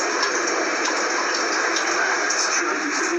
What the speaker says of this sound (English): When you turn on the one on the left, that water will come out fast.